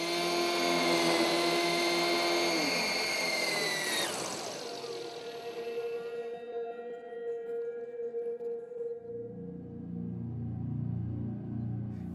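A small RC helicopter rotor whines steadily at high pitch, winds down partway, then drones on with a lower throbbing motor near the end.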